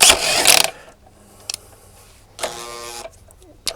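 Spanner tightening a nut on a BSA B31/B32/B33/B34 single-cylinder motorcycle engine: a loud burst of ratcheting clicks, a short pause with a couple of faint clicks, then a second longer run of ratchet clicks ending in a sharp tick.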